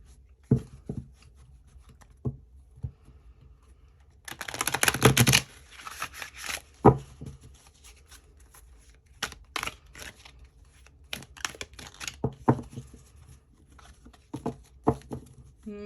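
Tarot cards are shuffled by hand, giving scattered soft taps and flicks with a denser riffling burst partway through, close and intermittent against a quiet room.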